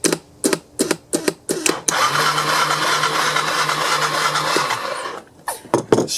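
A Yamaha Bear Tracker ATV engine turns over in several sharp, sputtering bursts, then whirs in a sustained cranking run before cutting out and giving a few more short coughs, loud and close.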